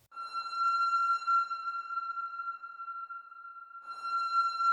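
An Arturia MiniBrute synth plays a sustained pure tone with bright overtones through a fully wet cathedral reverb, holding steady for several seconds before a fresh note enters, alone and without talk.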